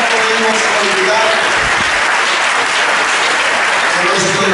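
Church congregation applauding the Lord during a Spanish-language sermon, loud sustained clapping from many people, with a voice speaking over it at the start and briefly near the end.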